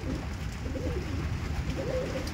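Madras pigeons coo in a loft, soft, low and repeated, under a steady broadband hiss.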